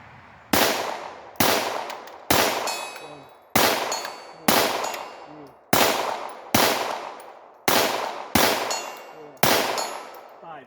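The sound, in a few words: Ruger Mark IV pistol shots at 65 yards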